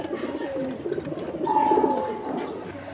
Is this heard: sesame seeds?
no